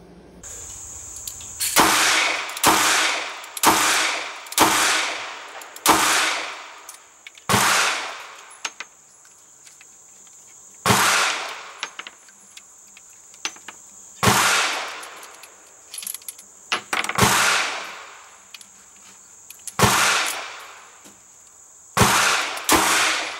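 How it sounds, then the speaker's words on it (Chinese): Smith & Wesson 340 lightweight titanium revolver fired rapidly one-handed in self-defense practice, loud sharp cracks in quick bursts of several shots with short pauses between strings, each report trailing off briefly, no talking. "第四支是 Smith & Wesson 340，算是最贴近实用的便携左轮枪，连转轮都是钛金属，"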